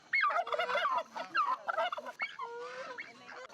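Wild turkeys gobbling close by, a flurry of loud rapid warbling gobbles and clucks from several birds overlapping in quick bursts, with no talk.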